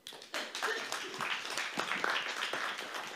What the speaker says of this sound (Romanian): Să primim cu aplauze.